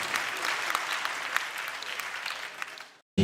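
An award ceremony audience, the fifth edition of the Kiyenna America Award at the Palais des Congrès de Kara, applauds with dense, steady clapping that fills the room for about three seconds before cutting off abruptly.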